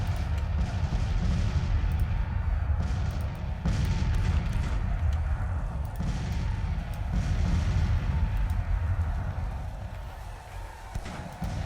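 Cannons of the Civil War era fire in the strategy game Grand Tactician: the Civil War, a barrage of heavy booms and rumbling blasts repeating every second or two over a dense battle roar, loud and continuous.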